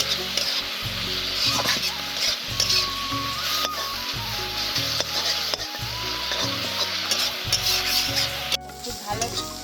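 Ground kharkol leaves fry in a pan with a steady, close sizzle, broken by regular scraping and stirring strokes against the pan.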